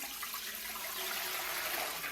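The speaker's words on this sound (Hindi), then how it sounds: "इसमें 1 जग पानी डाल लेते हैं" Water gushes from a jug into a pot fitted with a stand for roasting a mutton leg, a steady hissing splash that stays loud and even, with no one talking.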